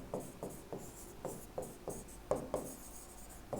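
A pen scratching across paper or a board during an anatomy lecture on the nervous system, with short quiet strokes in an irregular rhythm, close and soft, with no talking.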